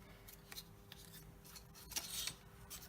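Scissors snip through paper along score lines for a compartment box, a soft series of quiet close cuts and rustles, with one slightly louder stroke near the end.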